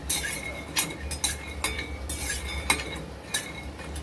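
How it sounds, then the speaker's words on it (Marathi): Peanuts dry-roasting in a kadhai for laddu, stirred with a metal spatula that scrapes steadily along the pan and gives frequent sharp clinks, close up with no voices. "आता आपण काय करूया हे शेंगदाणे भाजून घेऊया शेंगदाणे छान असे भाजून घ्यायचे"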